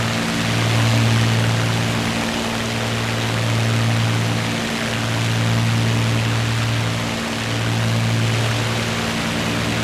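A steady, droning piston engine of a Spitfire Mark IIB in the A2A flight simulator runs throughout, its low hum pulsing slowly in long even waves over a constant airy rush, with no voices.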